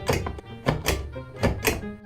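A human voice imitates a bathtub shower diverter knob being fiddled with, producing a short series of dull, hollow thunks and clicks in irregular pairs, close and fairly loud.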